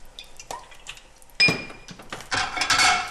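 A metal pan clanks and scrapes on a stovetop in a few sharp knocks, followed by a brighter rattling clatter. No one speaks.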